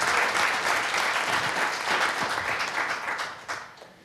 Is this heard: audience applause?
yes